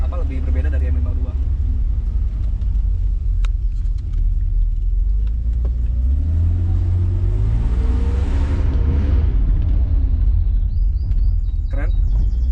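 A 1995 BMW E36 320i automatic with the M50 engine runs with a steady, loud low rumble that swells as the revs rise midway and then settles, heard close with a voice talking over it.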